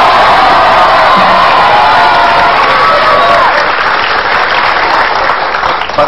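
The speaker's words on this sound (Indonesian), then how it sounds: "tepuk tangan dong." Sustained loud applause and cheering from an Indonesian television comedy studio audience fills the stretch, dense and continuous, with whoops rising above it before it eases slightly toward the end.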